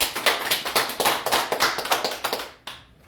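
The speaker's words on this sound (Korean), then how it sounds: "자, 환영의 박수 한번 부탁합니다." Welcoming applause for a branch manager opening a life-insurance product training session, with a small group clapping in uneven bursts for about two and a half seconds before it stops abruptly.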